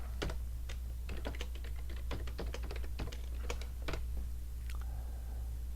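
Quiet keystrokes on a computer keyboard as a username and password are entered: irregular bursts of light clicks over a low steady hum, fairly faint and close.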